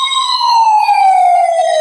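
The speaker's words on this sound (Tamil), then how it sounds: "அப்படியே ஃபயர் இன்ஜின் சவுண்ட் அப்படியே கேட்குதுங்க உங்களுக்கு." A loud, close electronic siren from a toy fire engine wails in a single long downward sweep, clean and steady with no other sounds.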